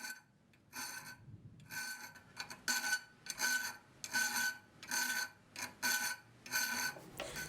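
A steel flat file rasps across a knife blank being shaped by hand, in repeated strokes of about half a second each, with short pauses between them. The strokes are even and fairly close, with no voices.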